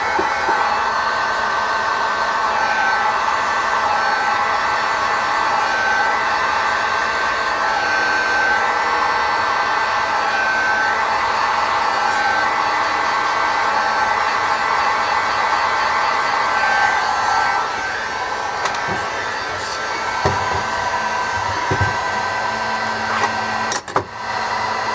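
Heat gun blowing hot air onto a Kydex Glock holster to reshape the channel: a loud, continuous whooshing hum held steady throughout, with a few brief handling clicks near the end.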